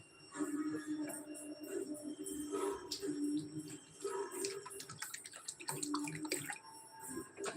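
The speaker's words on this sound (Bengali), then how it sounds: "একটু জল দিয়ে দেবো অল্প সামান্য জল দিলাম" Water is poured into a pan of fried fish and vegetables, splashing and bubbling with intermittent gurgles and light ticking clinks, close by and fairly loud, with no clear talking.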